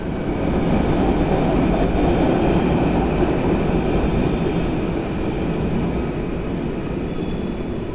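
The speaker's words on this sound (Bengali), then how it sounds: "ওই যো আমাদের ট্রেন আসছে" A train arrives at a Mumbai station with a loud, steady rolling rumble of wheels and carriages close by, continuous throughout.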